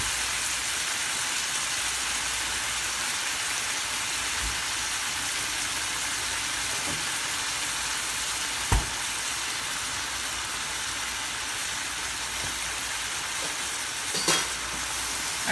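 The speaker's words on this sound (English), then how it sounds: "So then we're just letting it simmer" Food simmers and sizzles steadily in a pot, a dense, even hiss that holds throughout with only a few faint clicks and knocks, and no talking.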